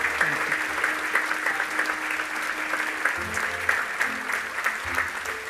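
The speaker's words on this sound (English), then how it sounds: "let's give him another round of applause" An audience in a hall gives sustained, even applause after a talk by a Miami Dade College alumnus, a continuous dense patter of clapping with little voice.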